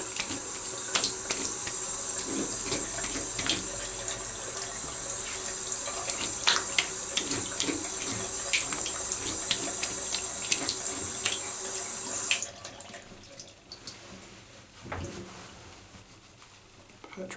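Water runs from a tap as a safety razor is rinsed, a steady splashing stream with small clinks, that cuts off abruptly near the end, leaving a quieter room.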